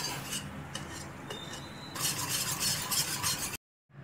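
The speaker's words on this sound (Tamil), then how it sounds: "இத நல்லா நம்ம விப் பண்ணி மாஷ் பண்ணிரணும்" Cooked dal lentils for tiffin sambar are whipped and mashed in a pot, giving a close, wet scraping and stirring texture that grows louder and busier midway before cutting off abruptly.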